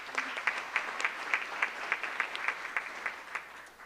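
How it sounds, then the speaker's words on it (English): Applause for a school sports team at a board of education meeting: a thin, steady patter of clapping from a small group in a room, fairly faint, with no talk. "So round of applause for them."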